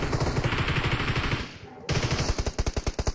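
Rapid automatic gunfire in dense bursts from the mobile shooter game BGMI, a brief lull, then sharp rhythmic shots resuming, loud and close.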